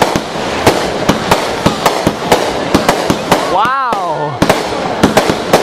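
Fourth of July weekend fireworks burst over a lake at Lac du Flambeau, Wisconsin: rapid, sharp bangs in an uneven series with a brief whistling shriek midway. A spectator exclaims once.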